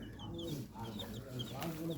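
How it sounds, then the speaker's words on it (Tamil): Chickens raised on a family farm cluck softly and quickly in short, repeated bursts at close range, with a few sharper chirps mixed in. "கோழி வளர்க்கு."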